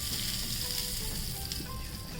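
Hot oil with a pinch of asafoetida dropped in for tempering gives a soft, steady sizzling hiss, faint and continuous with no talk.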